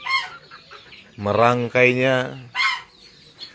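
Chickens near a makeshift wooden coop with no tin roof give loud, drawn-out clucks and cackles in several bursts, close by, with a brief spoken word at the start.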